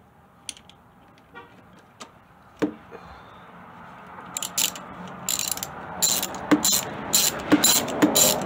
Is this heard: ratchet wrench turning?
yes